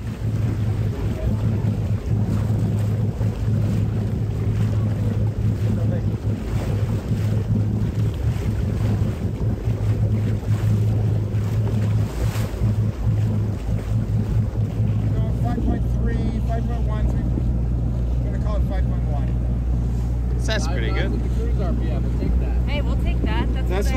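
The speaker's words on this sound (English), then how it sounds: "Peter went through the RPMs on the engine, taking speed over GPS from his own device." A sailboat's engine runs as it motors out into a bay, a continuous loud low drone under heavy wind buffeting, with the pitch dropping partway through as the RPM changes.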